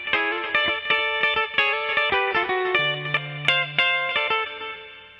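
An Ibanez AG86 hollow-body electric guitar fitted with a TV Jones pickup plays a quick run of bright plucked notes and chords in a rockabilly tone with effects, loud and close, with no talk.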